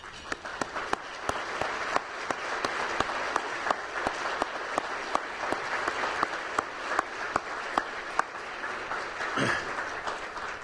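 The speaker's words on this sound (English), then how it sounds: "thanked with a round of applause?" A seated audience at a native-plants gathering applauds the board members and staff, a long, even round of clapping with crisp individual claps over a soft crowd wash, fading toward the end.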